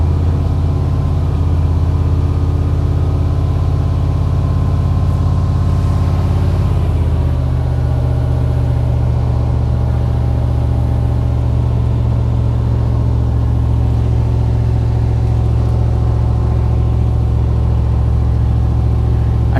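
A 1994 Chevy Silverado K1500 with a 5.7L V8 and a weak charging system runs continuously, a loud, close, steady drone whose pitch drops slightly partway through, with no talking.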